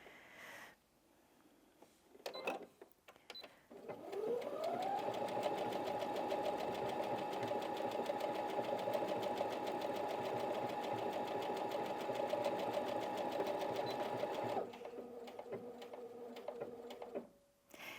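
A Brother Innov-is NV1800Q sewing machine stitching a row of decorative hearts starts with a rising whir, then runs at a steady even hum for about ten seconds before slowing and stopping, with a few clicks around it.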